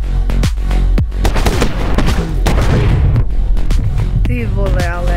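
Explosions and gunfire boom through a video game, loud dense blasts and rapid shots in a chaotic stream with deep low rumbles, and a voice is heard briefly near the end.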